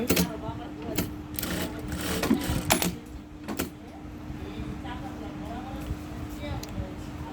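A Jack A5E industrial sewing machine running a dense stitch program, repeatedly placing the needle in the same spot; sharp mechanical clatters and bursts sound over a steady motor hum while someone talks throughout.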